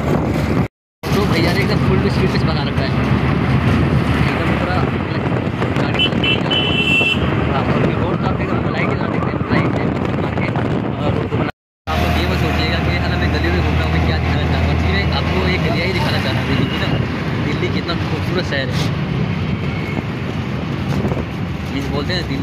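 A car speeds at full throttle along a Delhi road, giving a continuous roar of engine and road noise with brief dropouts, while people talk over it.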